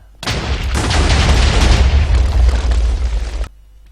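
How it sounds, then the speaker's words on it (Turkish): A TNT explosion in Minecraft goes off as one loud, deep, rumbling blast that lasts about three seconds before cutting off sharply. "Bayağı bir kötü patladı orası herhalde"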